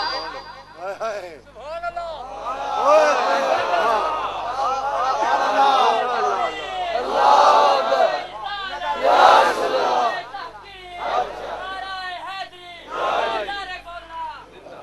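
A crowd at a religious gathering chants slogans in loud, repeated bursts of many voices, rising and falling in waves with brief pauses between calls.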